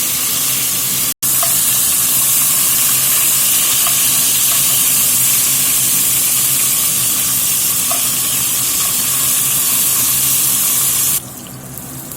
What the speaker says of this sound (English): this beef cooking in this garlic infused oil smelling pretty darn good